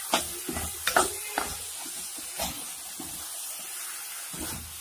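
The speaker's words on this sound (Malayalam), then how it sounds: "നന്നായി ഫ്രൈ ചെയ്യാം." Garlic and ginger paste frying in a pan for an Arabic-style chicken saloona curry gives a steady soft sizzle, broken by a few clattering stirs near the start, with no voices.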